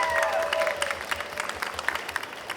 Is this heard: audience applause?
yes